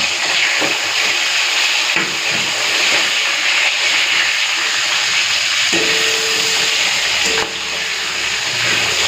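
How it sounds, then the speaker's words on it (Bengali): Fish frying in well-heated oil, one piece at a time, gives a steady loud sizzle and hiss that runs the whole time, with a few sharper pops and a dip in intensity near the end. "তেলটা ভালো মতো গরম হয়ে গেছে, এখন এক একটা করে মাছ ভেজে নেব।"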